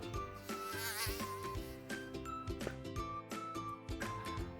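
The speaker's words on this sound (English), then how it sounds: "Mosquito, mosquito." A thin, whining mosquito buzz runs through the whole stretch, steady and fairly faint, mixed under a bright musical backing with no talking.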